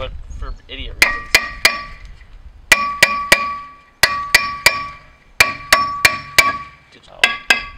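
A hammer repeatedly strikes a brake rotor on a 1989 Nissan 240SX, producing about fifteen sharp metallic clangs in quick bursts of two to four, loud and close.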